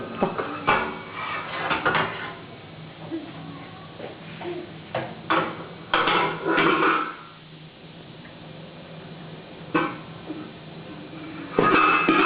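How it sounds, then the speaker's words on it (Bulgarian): A cooking pot being handled in a home kitchen gives off intermittent metallic clatters and knocks, some sharp and close, spread across the span with quiet gaps and faint background noise between. "Ма много шум дига тази тенджера"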